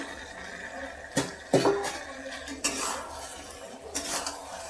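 Baby potatoes tipped into a pan while cooking potato gravy: a few sharp clattering knocks and scrapes of metal cookware, close and moderately loud, spaced irregularly over a low background hiss.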